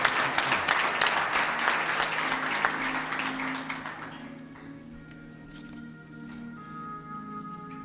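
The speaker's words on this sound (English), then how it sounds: "Let's have a nice round of applause for Suprema." Audience applause for an award winner at a chamber of commerce awards ceremony, steady dense clapping for about four seconds, then fading to a thin scatter of claps over faint music.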